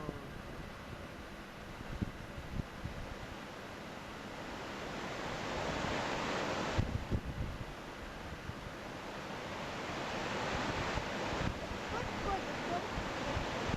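Floodwater pouring through Sheffield during the great flood of June 2007, a steady broadband rush and roar that swells slightly midway and keeps up throughout, with wind buffeting the microphone.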